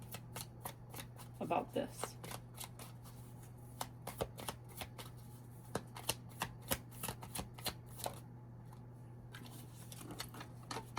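An oracle card deck is shuffled in quick, crisp riffles and flicks up close, sounding as a run of sharp papery clicks with a faint voice speaking briefly under them.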